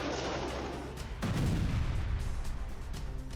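Sustained gunfire by Hamas fighters in Gaza after an anti-tank rocket attack on an Israeli base, a heavy rumbling burst followed by rolling, repeated distant shots and booms.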